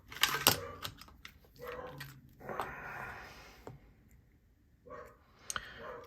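A second dog barks in a few sharp bursts at home, the yaps loud and close with gaps of quiet between them.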